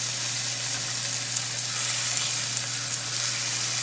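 Burger frying in a skillet on a Power XL electric grill, a steady close sizzle with a constant electrical hum beneath, continuous and unbroken with no voices.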